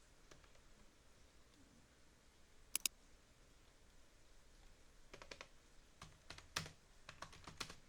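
Typing on a computer keyboard, sparse quiet key clicks at first, then quicker bursts of tapping toward the end, close by in a quiet room with no talking.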